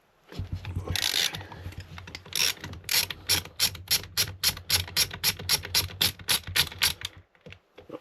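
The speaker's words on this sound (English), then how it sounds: "Yeah, 14mm socket." A ratchet wrench with a 14mm socket works a fastener on a Miele Complete C2 vacuum cleaner, giving a close, rapid run of sharp clicking pawl strokes in quick even bursts, with a few louder rattles early.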